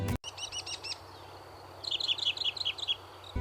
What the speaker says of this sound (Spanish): Incluso el sinsonte del norte de América del Norte puede copiar docenas de otras aves, e incluso alarmas de coche.